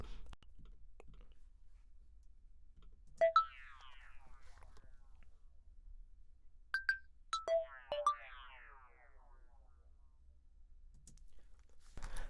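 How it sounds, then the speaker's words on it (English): Quiet electronic synth blips from an arpeggiated sound played dry in Logic Pro X sound in a few short bursts, each a quick run of bright tones with a fading sweep, separated by near silence. "you can still kind of hear the arpeggiated sound on there"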